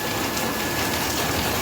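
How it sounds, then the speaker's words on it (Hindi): Heavy, steady downpour in the hill town of Mukteshwar, a dense continuous hiss of rain falling close by, unbroken for the whole stretch with no voices over it. "और अभी झमाझम बारिश हो रही है मुक्तेश्वर में, बहुत ही बढ़िया मौसम हो गया।"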